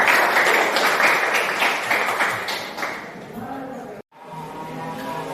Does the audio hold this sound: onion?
no